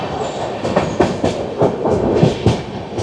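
Shatabdi Express passenger train rolling on rails between Howrah and New Jalpaiguri, heard from inside a carriage near Bally station: steady rumbling with a repeating clickety-clack of wheels over rail joints, loud and close, no talk.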